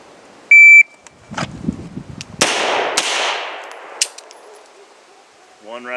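A Beretta M9A3 pistol drawn from concealment: a shrill shot timer beep, then two sharp, loud gunshots a half-second apart with ringing echo, some handling noise before them and a voice starting at the end.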